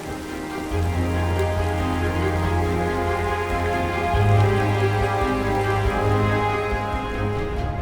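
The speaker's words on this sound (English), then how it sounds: "high winds and rain bombarded the area" Rain falling on a lake in high winds, a dense steady hiss of drops with a low hum underneath, continuous and fairly loud throughout.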